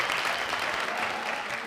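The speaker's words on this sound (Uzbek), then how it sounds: "Opamizga bitta qarsak bo'lsa." An audience at a comedy show claps in a dense, sustained burst of applause, fairly loud and continuous for the short stretch.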